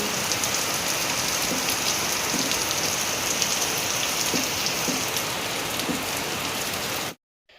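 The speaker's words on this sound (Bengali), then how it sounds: "বাইরে প্রচণ্ড বৃষ্টি হচ্ছে" Steady, heavy rain pours down continuously, a dense broadband hiss with occasional louder drops, cutting off abruptly near the end.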